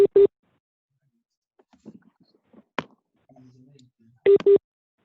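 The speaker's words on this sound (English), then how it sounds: "Somebody's phone was beeping." Short electronic phone beeps, a pair at the start and another pair near the end, with quiet murmuring and rustling between them.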